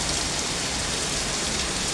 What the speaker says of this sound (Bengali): অনেক জোরে আসছে বৃষ্টি।